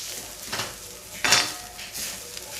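Coconut and onions dry-roasting in a pan for Malvani chicken masala, with a few spatula scrapes and stirs over a soft, steady crackle, close up and without speech.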